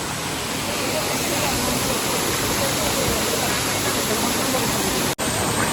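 Constant roar of a hidden waterfall near Karjat, a dense broadband rush heard up close and loud, steady throughout with one brief dropout near the end.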